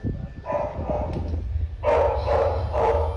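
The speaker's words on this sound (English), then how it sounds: "The dog is going berserk." A dog barks in a dark house, first a few softer muffled woofs, then three loud, close barks in a row over a low background hum.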